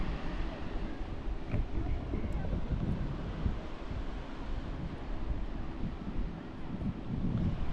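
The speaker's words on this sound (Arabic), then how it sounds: "جينا لواحد البلاصه سميتها شاطئ اشقار" Wind and surf at Achakar beach near Tangier, where sea meets ocean, a steady low roar of breaking waves mixed with buffeting wind against the microphone, continuous and fairly close.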